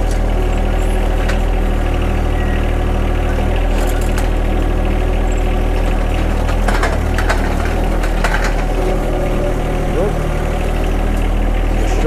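A John Deere 1025R compact tractor engine runs steadily at a constant droning idle, with occasional wooden cracks and snaps of brush being loaded into a dump trailer.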